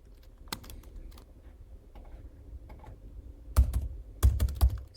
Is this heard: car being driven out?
no